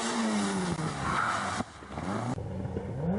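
A 1600 rally car on a north west stage throws a wild handbrake turn, tyres skidding and squealing loudly over a steady engine drone, with a brief dip midway before the slide resumes.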